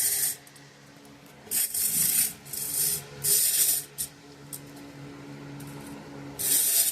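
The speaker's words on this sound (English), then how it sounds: "the bard is cutting this piano hinge" A piano hinge being cut for a wooden toy box gives bursts of harsh, raspy, high-pitched scraping in repeated strokes with short pauses between them. A low steady hum runs underneath.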